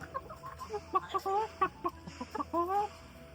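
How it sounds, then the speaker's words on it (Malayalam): Backyard chickens raised at a home in Poonjar cluck close by in quick, uneven bursts with short pauses, over low background noise. "ബിബി സാർ വളർത്തുന്ന കോഴികളാണ് ഗൈസ് ഇത്"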